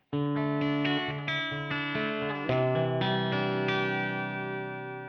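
A heavily distorted electric guitar through a Marshall Plexi 1987X tube amp with a PPIMV Type 3 master volume rings out sustained chords, loud and buzzing, changing a few times before fading slightly at the end.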